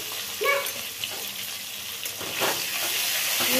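Potatoes sizzle in a hot pan with turmeric and salt, a steady soft crackle punctuated by a few stirring scrapes, fairly quiet and close.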